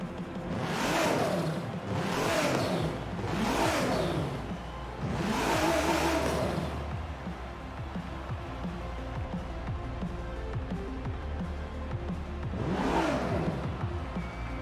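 A 2019 Hennessey VelociRaptor 6X6 truck engine in Forza Horizon 4 revs up repeatedly in a series of rising vroom bursts, each climbing and falling, then pauses before one last rev.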